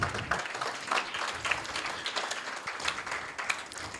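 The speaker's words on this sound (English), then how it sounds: "Can we give them a round of applause, please?" Audience applause at a humanitarian stakeholder conference, a steady patter of many hands clapping at moderate volume that fills the whole stretch without a clear break.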